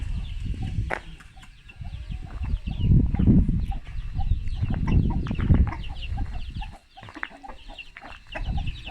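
Hens cluck in short, scattered bursts close by, with rustling and faint birdsong in the background.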